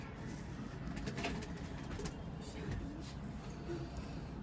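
Golden pigeons coo on a rooftop pigeon loft, a soft, steady murmur of calls amid dense background noise, with faint voices in the distance.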